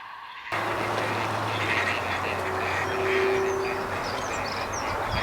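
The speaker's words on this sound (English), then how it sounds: "Plenty of noise when gadwall are about this time of the year" Gadwall ducks on a farm in breeding season call in a steady outdoor chorus of quacks, moderately near, over continuous low background rumble with faint chirps of other birds.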